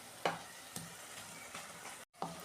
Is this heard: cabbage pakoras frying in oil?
yes